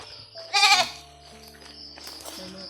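One loud, close goat bleat rings out briefly, followed by a fainter second call against a quiet background.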